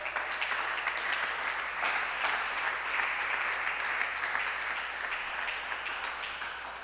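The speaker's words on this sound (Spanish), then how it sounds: "¿Cuánto le da un aplauso al Señor?" A church congregation claps together in a steady, sustained round of applause that fills the room at even loudness before easing off slightly at the end.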